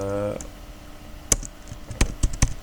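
Several sharp keyboard clicks typed on a computer keyboard, spaced irregularly with a short burst near the end, following a brief voice at the start; close and fairly quiet.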